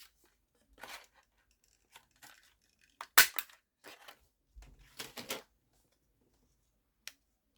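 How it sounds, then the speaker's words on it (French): Scattered short snips and crisp crunching cuts into a piece of material for a die-cut card project, with a few separate bursts and one sharp louder cut, alone without talk. "je vais en découper un autre bout, on va regarder"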